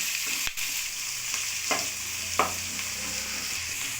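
Onions sizzling steadily in a hot pan for capsicum rice, a bright continuous hiss with a few sharp scrapes and knocks of a stirring spoon against the metal, close and without voices.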